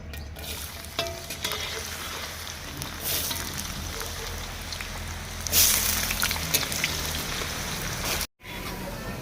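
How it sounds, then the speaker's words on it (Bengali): Carrots hit hot oil in a pan and fry with a steady, close hiss and crackle that carries on without a break, briefly flaring louder partway through, with no talking over it. "তেল গরম হয়ে গেছে এতে দিয়ে দেবো গাজর"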